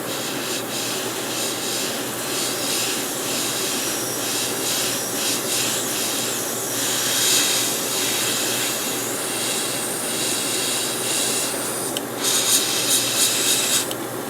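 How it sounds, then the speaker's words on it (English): Black primer and micro filler spray onto Gundam model kit parts in a loud, close, continuous airy hiss that holds steady throughout and surges briefly near the end, with no talking. "I'm going to begin pre-shading using black primer and micro filler."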